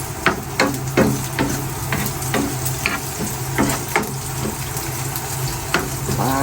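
Onion fries loudly in a pan while being stirred, a constant close sizzle punctuated by repeated scraping and knocking strokes of the spatula, over a low steady hum.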